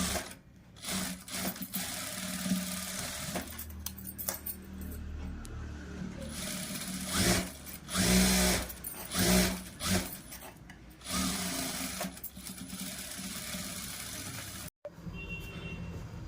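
Sewing machine stitching extra rows of seams on a blouse, running in bursts of steady mechanical whirring with short pauses between runs, close and fairly loud, with no talk.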